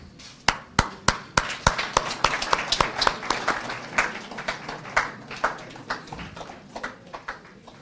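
An audience standing at a strategic plan launch event claps in unison as a cake is cut, starting with sharp, loud, evenly spaced claps that give way to a denser, looser patter of applause.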